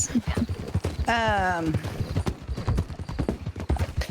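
Horse hooves clip-clop steadily in Red Dead Redemption 2, a near, even rhythm running under ongoing talk, with a brief horse whinny partway through.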